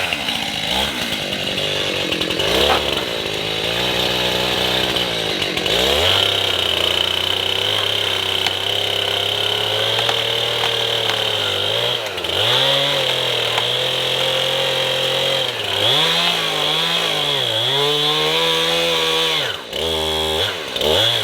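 A chainsaw runs loud and close for the whole stretch, its engine note rising and dipping as the chain bites into wood and eases off between cuts.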